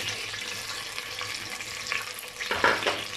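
Onions frying in hot oil in a pressure cooker, a continuous close hiss and crackle with a few sharper spatters near the end.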